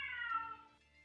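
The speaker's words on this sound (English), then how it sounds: "You hear you hear multiple cats meowing inside the Kincaid" A cat meows inside a house, a single clear drawn-out call up close that fades off into quiet.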